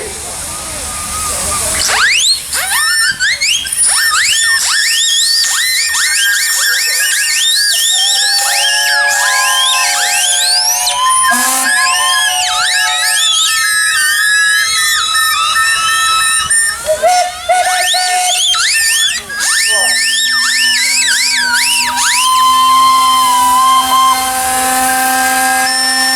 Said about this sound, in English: we want to give all the people living in Hellingly Showground what it's like to hear the steam whistles